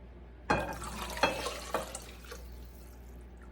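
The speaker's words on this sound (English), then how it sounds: "I'm going to mix a cup and a half of water" Water is poured and stirred into jarred Ragu spaghetti sauce, giving a few wet sloshing splashes at uneven intervals followed by softer swishing and dribbling, close up and fairly quiet.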